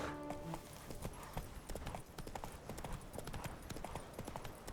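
Hoofbeats of the horse Roach galloping in The Witcher 3 video game, a quick, steady clip-clop rhythm running throughout, fairly faint and close, with no voices heard.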